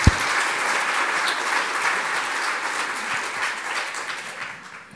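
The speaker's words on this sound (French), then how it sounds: "qu'on peut applaudir chaleureusement" Warm applause from a lecture audience in Geneva greets a talk on flood myths, a dense, steady clapping that swells at once and slowly thins toward the end, with no voices over it.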